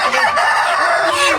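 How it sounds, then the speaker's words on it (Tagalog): Chickens on a farm cluck and a rooster crows, close and loud, the calls overlapping in a short busy burst of fowl noise. "Ang daming manok."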